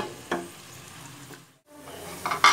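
Chopped onions sautéing in hot oil in a pan for mutton aloo curry, with a soft steady sizzle, a couple of sharp clatters from stirring, and a brief hush before a louder hiss and scrape.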